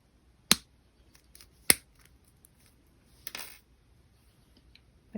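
Two sharp, isolated snips of wire cutters trimming wire ends on a wire-wrapped bangle bracelet with rectangle and square beads, clear and close in a quiet room, followed by a softer rustle and one more snip at the end.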